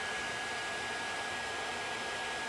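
A hot air tool blows steadily to heat and shape a part during a fitting job, a constant even hiss with a faint high tone, close by and uninterrupted.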